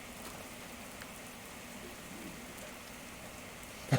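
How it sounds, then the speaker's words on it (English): Rain falls through the night in a steady, soft hiss and patter that stays even and fairly faint throughout, with a brief louder knock at the very end and no voices. "How about this rain, huh?"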